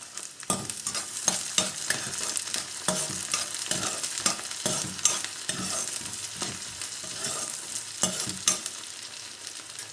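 Chopped onion frying in hot oil with mustard seeds and cumin for a cabbage and potato fry: a steady sizzle broken by regular scraping spatula stirs against the pan, close and moderately loud.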